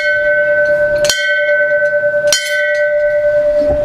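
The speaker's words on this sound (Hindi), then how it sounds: "यहाँ पर हम एक बार घंटी बजा देते हैं" A temple bell at Sidhbali Mandir in Kotdwar, Uttarakhand, is struck twice about a second apart, each loud clang leaving a clear metallic tone ringing on in the evening quiet.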